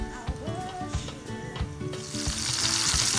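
Fish sizzling as it drops into hot oil, a loud steady crackling fry that grows brighter and denser toward the end, with light clatter from the pan.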